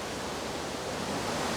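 Elabana Falls pours in a steady, broadband rush of falling water, a continuous hiss with no pauses and no other sounds.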